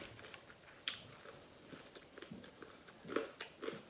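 Crunchy skillet-cooked bacon being bitten and chewed during a breakfast mukbang of cheesy grits, eggs and toast, heard as close, irregular crunches and soft mastication with a few sharper bites, no talking.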